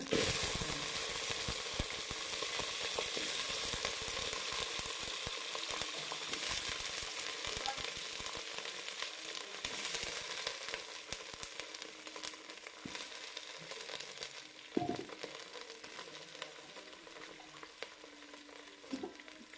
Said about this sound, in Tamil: இப்போ வெந்தயம் பொரிஞ்சிருச்சுங்க. காலிஃப்ளவரை போடலாங்க.